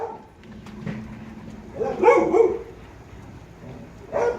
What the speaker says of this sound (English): So he's barking, but he really wants to come back in.